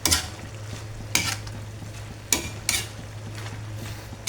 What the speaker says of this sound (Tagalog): So ayan po yung ginisang gulay ko ngayon mga kabhab